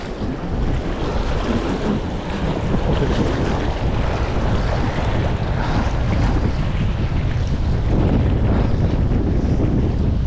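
Strong, choppy waves on a rough fish pond during fishing, a loud continuous wash of churning water with heavy wind buffeting the microphone and no voices.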